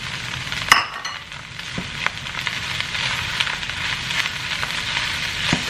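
Eggs tossed into a pan of St. Louis style fried rice, with a sharp clink at the start and then steady, busy sizzling and crackling that keeps going close up, with no one talking.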